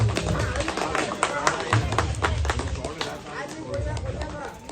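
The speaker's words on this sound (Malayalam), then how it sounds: "ആ കൈയടിക്ക്." Clapping from a small crowd at a family get-together rattles steadily for several seconds at moderate volume, mixed with talk and background murmur.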